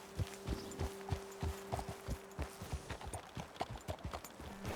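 Horse hooves clip-clop in a steady walking rhythm from several horses in the Red Dead Redemption 2 video game, close and distinct, with no talking.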